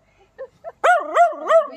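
Dog outdoors during a neighbour's house move gives a few faint yips, then a run of three loud, whiny, close barks.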